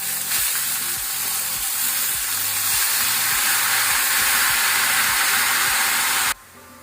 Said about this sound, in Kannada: ಸಾಸಿವೆ ಕ್ರ್ಯಾಕಲ್ ಕರೀಲಿ ಒಗ್ಗರಣೆ ಕೊಟ್ಟು ಹಾಕೊಳ್ಳುವ